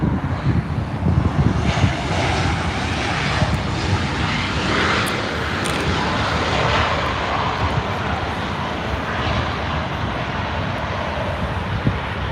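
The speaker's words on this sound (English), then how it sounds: "We also have an E175 lined up for departure." An Embraer E175 jet taking off in a Delta Connection departure, its engines roaring loud and steady as a broad sustained rush for the whole stretch, with a touch of wind noise.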